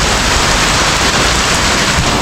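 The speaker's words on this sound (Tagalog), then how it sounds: "lakas ang ulan mga kapars, oh." Heavy rain pours down in a dense, constant hiss with no pauses, loud and close.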